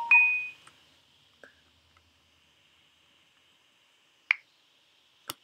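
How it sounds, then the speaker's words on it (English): A mobile phone sounds a clear tone at the start, followed by a few sharp, brief pings and clicks spaced over several seconds in an otherwise quiet room. "my phone keeps going off"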